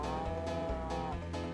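A cow in the racing game Choro Q Wonderful lets out a single loud, drawn-out moo, with a low drone underneath.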